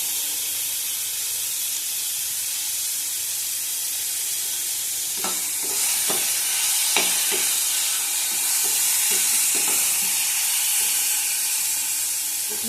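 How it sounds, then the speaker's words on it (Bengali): Pointed gourd (potol) fries in oil, a steady high hiss of sizzling throughout, with a few soft clicks and scrapes in the middle, close and without talk. "ভালো করে ভেজে দেবো, আর কমিয়ে ভাজবো,"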